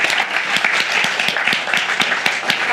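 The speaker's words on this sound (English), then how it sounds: "round of applause for Alex" Audience applause for Alex Ratner, Snorkel AI CEO, at the close of a talk: dense, steady clapping from a crowd, fairly close and even, with a few sharper individual claps standing out.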